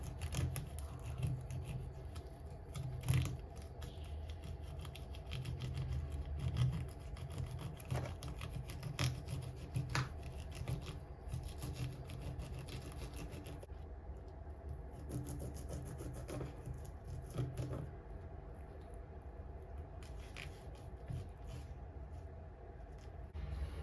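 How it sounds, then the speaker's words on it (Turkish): A knife slices through a fish fillet being cut for fishing bait, giving a steady, quiet rasping scrape with occasional sharper ticks, close up and without talk. "Kazdıktan sonra süzgecinin altından bu şekilde kesmeye başlıyoruz."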